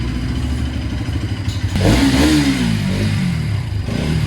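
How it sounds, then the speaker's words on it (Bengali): A new Bajaj Pulsar NS 200 motorcycle revs loudly and close by as the ride begins, its idle clatter rising into a strong throttle surge for a couple of seconds before settling back to a steady engine drone. "তো চলো এখন আমার বাইকটাকে নিয়ে বেরোনো যাক।"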